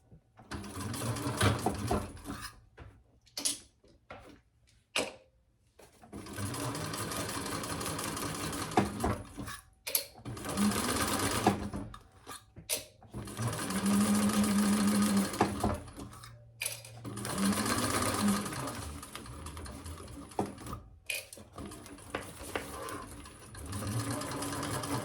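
A sewing machine bastes a messenger bag in place, running in bursts of steady mechanical whirring and needle clatter separated by short pauses, close and moderately loud with no speech.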